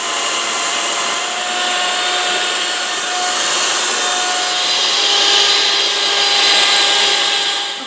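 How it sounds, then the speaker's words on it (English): Electric hand mixer running on high speed, beating eggs to stiff-peaked meringue, a steady loud whirring drone that holds without pause. "We're going to beat these egg yolks on high until they form stiff peaks."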